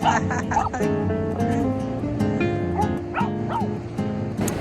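A dog barks and yips repeatedly while running with its owner on a morning jog, under steady background music.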